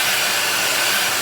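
A MonoMono Dreamworld hair dryer blows steadily at close range, giving a continuous, even airy whoosh with a broad hiss and no other sounds.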